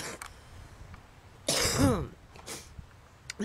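A single rough cough, like clearing the throat, from digging dusty red clay dirt, bursts out over steady background noise, then fades back into quiet rustling.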